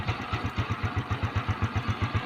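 A fuel-injected motorcycle engine runs after a resistor repair, idling close and steady with an even, rapid chugging pulse and no one talking.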